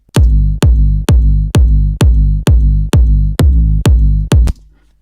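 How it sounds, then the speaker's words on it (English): Ten heavy, booming big room kick drums hit in a steady rhythm, each with a sharp click and a deep sustained tail; the last hits are pitched down lower. "on the 8th kick I pitched it down so it sounds like this"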